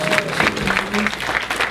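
Comedy club audience applauds, a crowd clapping in a steady moderate burst that carries on throughout, with a voice briefly audible over it.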